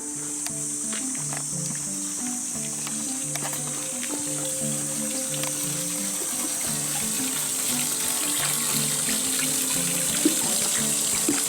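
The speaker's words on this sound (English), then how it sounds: "Hey, there's a fountain there." A public fountain in Japan runs with a steady, unbroken rush of water throughout, with quiet tonal background sounds from the surroundings underneath.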